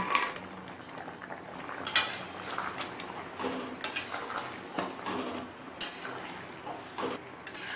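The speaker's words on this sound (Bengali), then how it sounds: "চিনি আর বড়িটা দিয়ে নেড়ে চেড়ে মিশিয়ে নিলাম" A spoon scrapes and clinks against a pot while sugar and fried bori are stirred into cooked vegetables, irregular sharp metallic taps over a quiet background, no talk.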